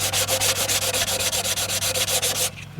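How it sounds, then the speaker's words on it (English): Rapid, steady back-and-forth rasping of sandpaper on the edges of a wooden pallet raised garden bed, close and loud with an even stroke rhythm, stopping abruptly near the end. "I'll just sand off some of these edges."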